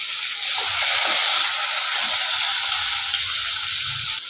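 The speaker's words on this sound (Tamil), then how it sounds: "வத்தலையும் சேர்த்துட்டு இப்போ வதக்கி எடுத்துக்கிறலாம்" Radish chutney ingredients, including garlic, ginger, tamarind and dried chillies, sauté in a hot pan, giving a loud, steady, close sizzle and hiss that runs without a break and with no talking.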